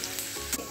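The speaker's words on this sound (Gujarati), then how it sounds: "એને થોડું ફ્રાય થવા દઈશું।" Chopped vegetables sizzle steadily in a hot pan while fried rice is being made, a continuous close frying hiss with brief stirring bursts and no voices.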